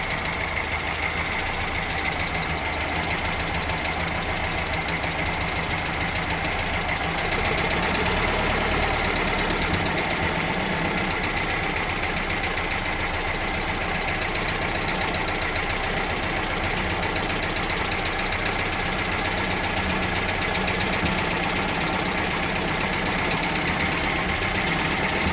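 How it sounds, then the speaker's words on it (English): A VW Golf Mk1 with a swapped 2.0L 8-valve engine on Dellorto DHLA carburetors runs steadily, a loud, even mechanical clatter and rumble that holds for the whole span, with no talking. "The engine is running fine"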